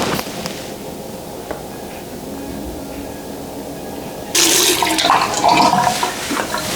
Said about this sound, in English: I make sure to wet my face first, just to allow the product work better